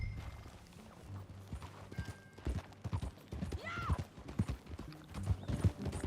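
A horse in Red Dead Redemption 2 trots with steady clip-clop hoofbeats and neighs partway through, while game dialogue plays quietly underneath.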